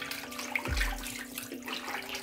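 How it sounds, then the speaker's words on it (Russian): Hands lowered into a basin of warm water mixed with starch, giving a soft splash and gentle sloshing that settles into quiet trickling ripples, close and alone with no voices. "теперь вот опускаем руки в воду с крахмалом"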